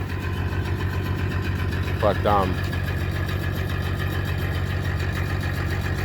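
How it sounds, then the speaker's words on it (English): A generator runs aboard a large canal boat at lock 19 on the New York State canal, giving a steady, even low hum throughout, with a voice briefly saying a word over it. "I'm sure that's a generator running right now, and the only thing it's running is the lights or whatever."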